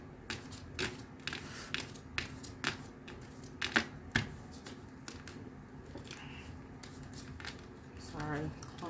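A deck of bulky angel cards being shuffled by hand, giving a quick, uneven run of close, crisp riffling taps and slaps with brief pauses between bursts, while someone talks softly in the background.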